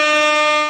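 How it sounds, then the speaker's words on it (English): A single loud, steady blare from an air horn set off at a tabletop roleplaying game session, cutting off abruptly after under a second. "it's an air horn"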